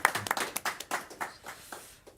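Audience applause for chess champion Arvind at the Prague Masters, a burst of separate claps at moderate distance that thins out and fades over two seconds.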